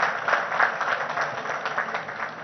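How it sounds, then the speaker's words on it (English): Short burst of audience applause, moderately loud and slightly uneven, swelling and easing over a couple of seconds. "I think he deserves a bigger round of applause, guys."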